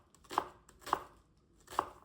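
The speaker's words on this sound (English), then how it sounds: "Watch your fingers when you're chopping, but you want the pieces to be not too big" Knife chopping vegetables for a broccoli cheese soup, three sharp board impacts spaced about half a second to a second apart, close and clear with no talking.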